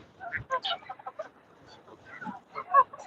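A goose calls during an outdoor nature walk, a string of short, faint honks and clucking notes coming in irregular bursts. Quiet outdoor ambience sits underneath.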